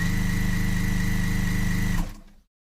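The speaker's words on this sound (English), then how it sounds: "start sewing using a 1/4 inch seam allowance" A sewing machine runs steadily and loudly, stitching bias tape onto a tank top neckline with a 1/4 inch seam allowance, then stops abruptly near the end with no talk.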